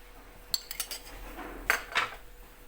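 Metal pot clatters onto a kitchen stovetop while cooking Turkish meatballs, a few light clinks and knocks of cookware at close range, with no voices.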